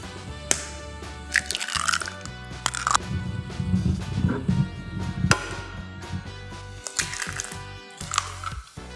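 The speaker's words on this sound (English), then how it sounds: "I'll crack all 4 right into the bowl." Four eggs are cracked one after another and poured into a bowl in a home kitchen, with sharp shell taps and cracks, wet drips and slippery pours close by, separated by brief pauses.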